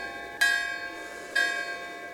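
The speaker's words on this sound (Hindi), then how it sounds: "रात को गांव के मंदिर में घंटियां बजने लगी।" Temple bells in a village ring at night: two clear metallic strikes about a second apart, each leaving a long, bright, shimmering ring that slowly fades, fairly quiet and alone.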